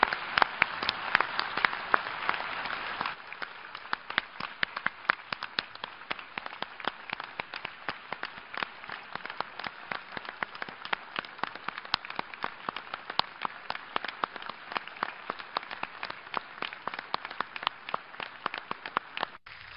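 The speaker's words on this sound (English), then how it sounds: "I think we owe him a good round of applause" A hall of delegates gives a long round of applause, dense and steady at first, then thinning into a sustained patter of clapping that continues to the end.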